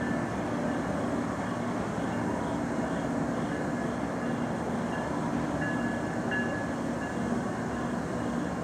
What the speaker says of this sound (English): Sounds like another train's coming behind this one